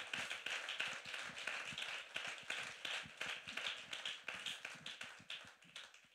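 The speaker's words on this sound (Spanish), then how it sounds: "Dale ese fuerte aplauso al Señor." A church congregation claps in a quick, even rhythm, heard faint and somewhat distant, with each clap distinct rather than blurred into a roar.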